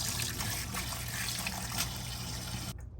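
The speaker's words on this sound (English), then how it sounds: "Here we're gonna rinse the chickpeas now." Chickpeas being rinsed under running water give a steady, close trickle and splash that stops abruptly near the end, with no talking.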